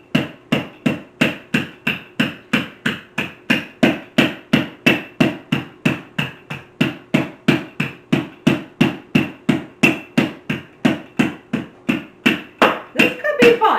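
Puff pastry dough pounded on a kitchen counter for a brie recipe, about forty heavy, evenly spaced thuds in a steady rhythm, close and loud, with no talking.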